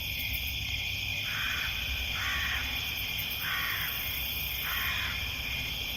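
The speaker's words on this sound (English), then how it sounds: "plus ravens." Ravens caw in a creepy forest soundscape, four or five hoarse calls spaced evenly over a steady ambient bed, moderately near with no talk.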